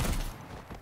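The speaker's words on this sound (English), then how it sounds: "That was a lot of gunfire." A short burst of rapid gunfire in the video game Ground Branch cracks out loudly, then fades into a dull thud and fainter shots.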